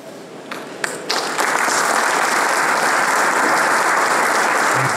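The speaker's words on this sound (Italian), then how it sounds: "chiedo un applauso per i nostri relatori" Audience applause at an Italian technology conference session on INAIL's container and DevOps project, rising from scattered claps into steady, dense clapping that fills the room and holds through the end.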